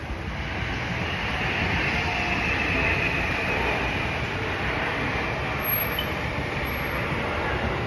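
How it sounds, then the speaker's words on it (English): A train passes through Tokyo in a steady, continuous rumble and rush that holds for several seconds, with a faint high whine over it; no talking. "I think that's my train."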